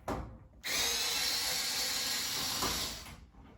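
Power drill whirring steadily as it backs screws out of the blower compartment of a Whirlpool or Maytag electric dryer, a close, loud continuous drone with a brief lead-in burst and a tapering stop.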